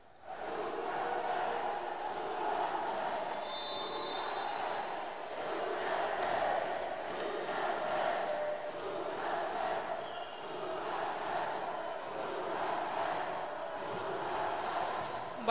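Volleyball fans cheer and shout steadily in a sports hall at a Yakutian regional games match, a continuous crowd roar with a commentator speaking over it.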